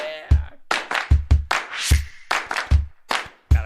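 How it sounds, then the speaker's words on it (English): Hands clap in uneven, sharp single claps and quick pairs, close and dry, with brief louder bursts between them and no talk. "Gotta clap your hands."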